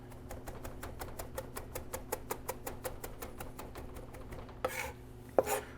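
A knife chops cilantro on a cutting board in a steady, rapid series of crisp taps, close and clear, ending with a couple of louder scraping knocks, no talking.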